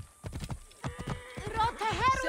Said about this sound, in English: Okay, let's ride a horse.